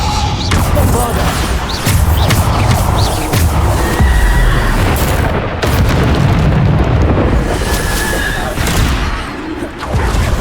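Bombarda blasting spells explode in Hogwarts Legacy on PC, loud booming bursts rolling one into another amid dense combat noise, with a voice shouting over the blasts.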